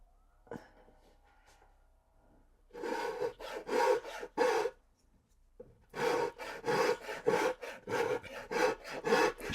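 A coarse rasp files the wood of an electric guitar body in quiet, rhythmic back-and-forth strokes, first a short burst of four and then a longer run of about eight after a brief pause.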